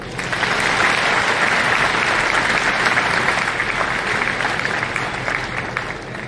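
An audience claps steadily and loudly throughout, a dense sustained round of applause with no voices standing out above it.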